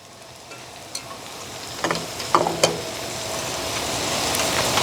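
Cornstarch, brown sugar and beef being stirred on a hot Blackstone griddle, a faint steady sizzle with a few scraping taps of a spatula partway through, close by and without talk.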